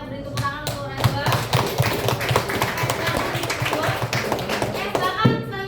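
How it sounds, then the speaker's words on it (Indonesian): Classroom applause for a student during a biology lesson, a brisk burst of hand clapping mixed with taps and light thumps, with children's voices chattering underneath throughout. "kita beri tepuk tangan untuk Najwa"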